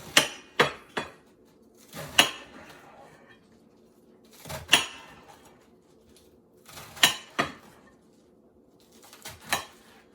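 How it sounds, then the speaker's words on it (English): A knife chopping smoothie ingredients such as lettuce on a cutting board, sharp irregular knocks in small clusters with quiet gaps, close and fairly loud. "You don't have to chop it up a lot because the mixer's going to do it for you anyways."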